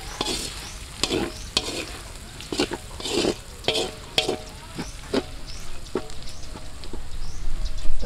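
Ground pork sizzles and fries in a pan outdoors, with steady crackling broken by repeated scrapes and stirring strokes, close and fairly loud throughout.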